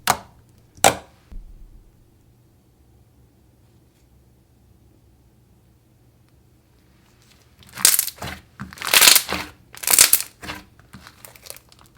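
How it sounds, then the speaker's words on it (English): Thick, glossy bubblegum slime is squished by hand, a couple of isolated crackles early, then a cluster of loud crinkly squelches and bubble pops near the end after a quiet stretch. "Very thick, glossy, and holdable, and it has amazing bubble pops as well."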